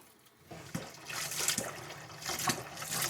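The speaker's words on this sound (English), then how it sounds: "I rinse my sticky fingers off" Hot tap water runs and splashes as sticky fingers are rinsed off while baking old-fashioned molasses cookies, a steady close trickle with brief bursts of splashing.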